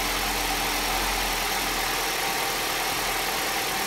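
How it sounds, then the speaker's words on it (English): A Ford 2.0L engine idling just after start-up, a loud, steady, close mechanical drone with a constant hiss and no speech. "We can go ahead and start the engine. All right, we got it started up."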